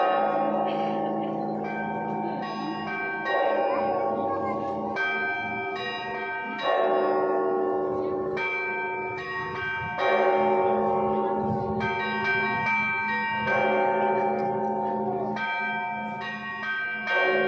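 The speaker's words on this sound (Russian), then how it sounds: "Звучит ростовский звон." Rostov-style church bell ringing at the Holy Dormition Cathedral in Tashkent, a full peal of several bells struck in repeated rhythmic cycles, rich ringing overtones sustaining between strikes, loud and continuous.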